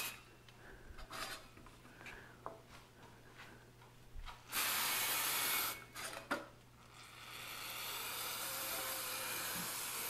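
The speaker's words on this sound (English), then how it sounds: "And I'm just using some brake clean." Brake cleaner is sprayed onto carbon-fouled Vevor Chinese diesel heater parts sitting in a metal pan. There is a short hiss burst, then a longer continuous spray hiss, after some faint clinks of handling.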